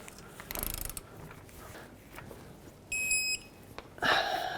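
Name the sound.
torque wrench tightening lower strut bolt on Toyota Camry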